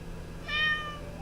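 Doodle, a pet cat, gives a single short rising meow, close and clear, over a low steady background hum.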